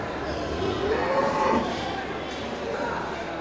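Large Simmental-Limousin crossbreed cattle at the Geulumpang Payong livestock market, a low moo or two blended into steady market murmur and nearby talk.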